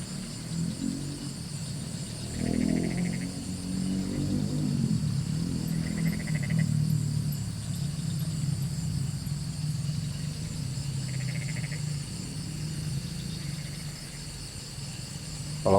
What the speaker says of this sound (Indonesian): Kalau kalian dengar suara motor